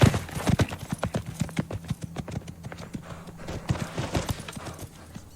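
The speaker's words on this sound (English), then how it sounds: "Definitely a beautiful horse, guys." Horse hooves clip-clop in a steady, close rhythm, a bright series of sharp knocks on hard ground, with a brief whinny-like touch and no talk over them.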